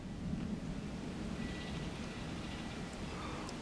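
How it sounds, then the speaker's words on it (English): Thunderstorm outdoors, with a faint steady rush of rain and a low rumbling of distant thunder throughout, soft and continuous with no talking. "I think this storm, let's see, it's moving, I don't know which way."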